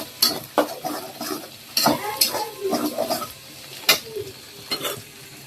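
Eggs frying in a hot pan for a noodle dish, sizzling steadily while a utensil stirs and scrapes them in several sharp, close strokes, with no talking.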